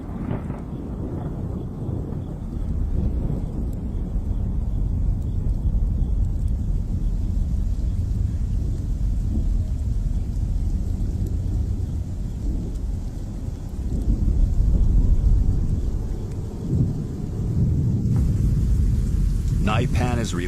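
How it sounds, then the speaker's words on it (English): Thunderstorm with rain in the African desert: a steady wash of rainfall over deep rolling thunder that swells midway, with a voice narrating over it. "Storm clouds gather once again."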